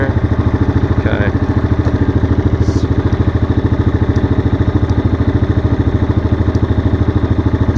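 A 2024 Yamaha Grizzly SE ATV engine runs in high gear with a steady, loud, rapid mechanical thrum that stays even throughout, close up and alone with no talk over it.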